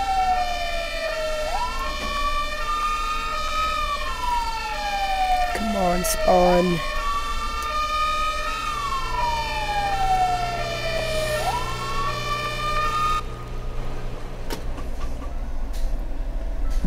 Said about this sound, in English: Why are there so many sirens?